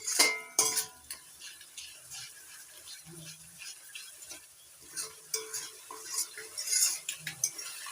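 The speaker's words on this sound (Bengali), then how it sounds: "মিডিয়াম আঁচে কষিয়ে নিতে হবে" A ginger and tomato paste masala sizzles softly in a pan over medium heat while a spatula scrapes and clinks against the metal in irregular stirring strokes, close and fairly quiet, with no voices.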